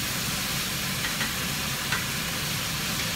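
Enchilada filling with peas sizzles in a Ridgemonkey pan, a steady close hiss of frying that runs unbroken for a few seconds with faint clicks.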